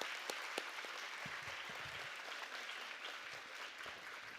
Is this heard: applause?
yes